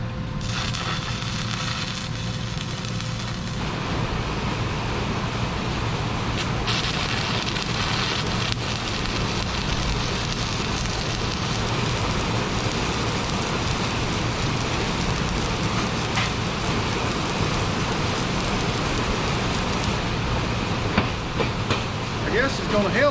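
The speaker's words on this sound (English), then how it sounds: "I guess it's going to hail a little bit." Hail falls outside a workshop during a homemade hydraulic press build, a dense, steady patter drumming on the roof and surfaces without letup for over twenty seconds.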